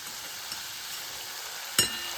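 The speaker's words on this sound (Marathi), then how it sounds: "बारीक गॅस ठेवायचा आणि हळूहळू असं ढवळत राहायचं आहे" Herbal paste frying gently in 200 ml of coconut oil over a low flame, a soft steady sizzle with a single brief clink of a stirring spoon near the end.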